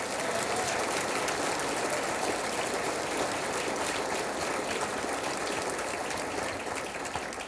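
A dinner crowd at a crime-line awards event applauds honoured police officers, a dense, even wash of many hands clapping continuously at full strength for the whole stretch without a break.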